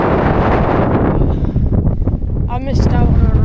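Strong wind buffets the microphone on an ancient volcano rim, loud gusty roaring that rises and falls in waves, with a voice speaking briefly toward the end.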